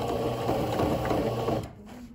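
A sewing machine stitches along the side of a fabric cleat bag, making a close, steady mechanical whir with a fast rhythmic clatter that runs continuously, then stops near the end, leaving a faint hum.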